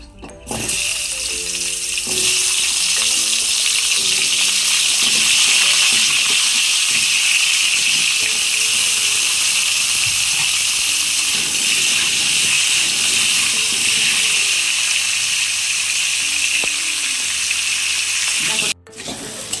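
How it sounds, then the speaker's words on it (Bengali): Cut potatoes frying in hot oil give a loud, steady sizzling hiss that runs almost unbroken for the whole stretch, with soft tonal sounds humming underneath. "আমার আলুগুলো ভাজা হয়ে গেছে"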